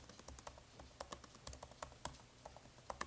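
Rapid, irregular clatter of keys on a computer keyboard, close and fairly soft, with bursts of quick strokes and brief pauses and no voices.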